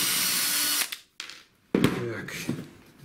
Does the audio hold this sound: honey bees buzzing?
no